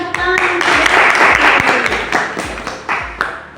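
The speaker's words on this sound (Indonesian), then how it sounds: "Oke, kita berikan tepuk tangan" A university classroom of students gives a short round of applause, with hand claps landing in a loose, fairly regular rhythm that stays close and loud throughout.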